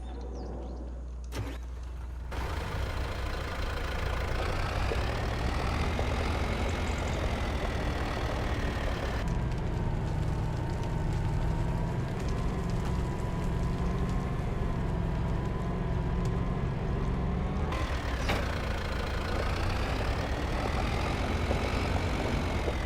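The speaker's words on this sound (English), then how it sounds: "It's a pretty big tractor for a mowing tractor" In the video game Farming Simulator 25, a large mowing tractor's engine idles with a steady, low drone that runs unbroken, shifting slightly in tone a few times.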